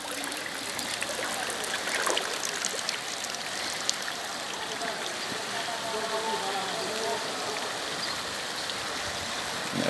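Heavy rain and floodwater rushing through a street during strong rains in the Brazilian Northeast, a dense steady hiss of rushing, trickling water, close and unbroken, with no voices.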